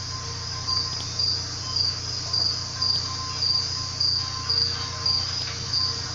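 A leaf-eating grasshopper chirps in short repeated bursts at a regular pace over a constant shrill insect drone. The sound is fairly close and nobody speaks.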